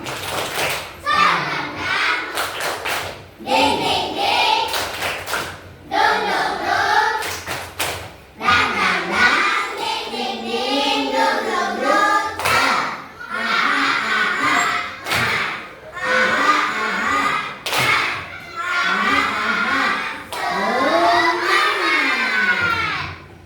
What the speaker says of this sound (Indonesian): coba ibu berikan dulu tepuk semangat.